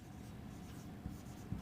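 Short stretch of writing on a board or paper during a Class 12 determinants maths lesson, faint scratchy strokes with a couple of soft taps, no talking.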